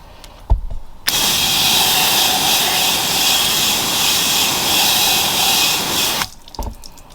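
A strong spray of water hisses steadily for about five seconds while rinsing a ceramic-coated motorcycle, loud and close, bracketed by brief clunks before and after.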